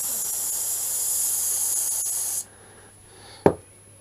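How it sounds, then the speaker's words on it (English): A steady aerosol spray of motorcycle chain lube hisses into a cap for about two seconds and cuts off, followed by quiet and a single brief knock. "I spray it into the cap"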